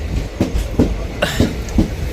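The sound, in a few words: train departing station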